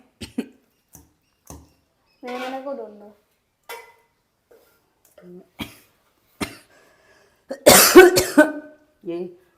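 Someone nearby gives a series of short, separate coughs and throat-clearing sounds scattered across the stretch, with one longer voiced sound and a louder burst near the end.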